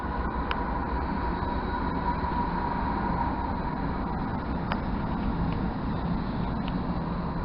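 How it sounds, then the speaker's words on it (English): A train rolls past on the tracks with a continuous low rumble and rattle of the cars, sounding steady and fairly close, with a few faint clanks. "there's a train, get a little view of the train"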